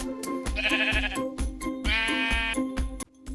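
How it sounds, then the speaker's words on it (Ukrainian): A sheep in a children's cartoon bleats loudly and close by, two long wavering cries with short rhythmic thumps around them. "Вівця каже бє, бє."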